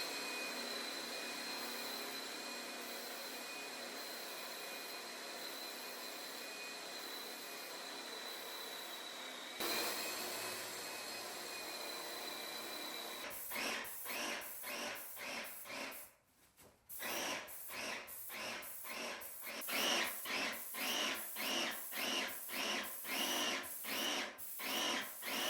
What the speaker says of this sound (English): My paint sprayer did not work as expected, but once I got it fixed, it worked very well.